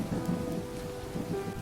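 Heavy rain pours steadily outdoors on a hillside, a dense, continuous wash of noise with a low rumble underneath and no voices.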